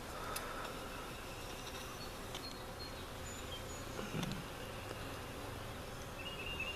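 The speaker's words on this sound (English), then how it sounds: "new bees are finally at home" A low, steady hum of buzzing honey bees fills the quiet background, faint but continuous, with a few brief louder passes close by.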